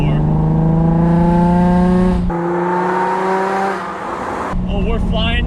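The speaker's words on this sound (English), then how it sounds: "let's get her up to speed" A car with a new big brake kit accelerates up to speed, its engine note climbing through gears with clear shifts, loud and close inside the cabin, then settling into a steadier drone.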